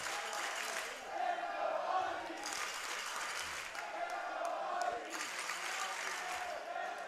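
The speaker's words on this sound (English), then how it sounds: "the Mexicans getting the Let's Go Aussies chant going here" Spectators at a 2016 under-19 men's lacrosse championship game, Australia versus Iroquois, chant in rhythmic waves that rise and fall in a big crowd roar, with a commentator talking over it.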